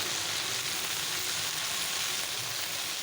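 Cumin, green chili and tomato dropped into hot tempering oil sizzle loudly and steadily, a dense continuous frying hiss close up with no voices.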